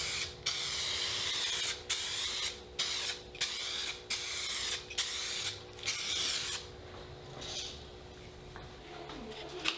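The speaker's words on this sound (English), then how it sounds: "As a lacquer, I'm using 2K automotive clear coating spray can." A 2K automotive clear coat spray can applies lacquer to a guitar body in a series of short hissing bursts with brief pauses between, close and steady, then a quieter stretch of handling noise.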